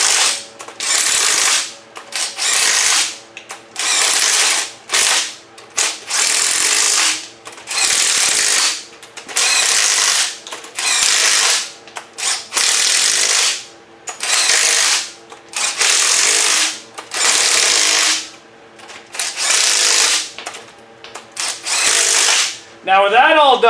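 Impact gun on a small block Chevy demolition derby engine, snugging cylinder head bolts in repeated loud rattling bursts about one to two seconds each, separated by short pauses, close up.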